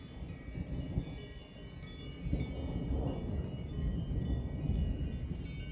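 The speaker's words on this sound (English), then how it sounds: "Can you hear the storm?" Thunderstorm rumbling through the Swiss mountains, with low rolling thunder swelling and fading over steady rain-like noise, moderately loud and continuous with no talking.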